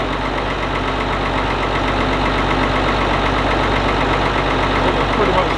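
A Ford TW25 tractor engine runs steadily after a service, giving a loud, close, continuous diesel rumble with a knocking edge throughout.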